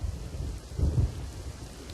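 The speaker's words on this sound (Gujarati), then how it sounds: "મહારાષ્ટ્ર અને ગુજરાતના સરહદી વિસ્તારમાં ભારે વરસાદને લઈને નદી નાળા ઉભરાઈ ગયા છે." Heavy monsoon rain pouring steadily along the Maharashtra–Gujarat border, with a low rumble of thunder swelling briefly through the middle of the short stretch.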